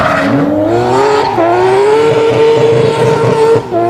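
Drift car at Conquer the Cape, driven down a straight in third gear then thrown into a drift: loud, close engine holding a high rising-then-steady note with tyre squeal layered over it, continuous for the whole stretch with no talking.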